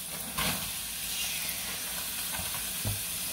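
Frozen vegetables sizzle in a hot pan, a loud steady hiss of frying close by with a couple of soft stirring knocks.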